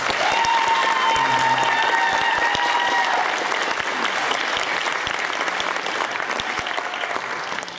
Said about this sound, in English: I want you guys to give them a round of applause.